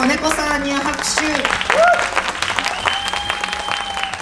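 Audience applause for a performer at a concert during the Ringo Music Festival 2017: a close, steady burst of clapping from the crowd, mixed with sustained tones and some voices throughout.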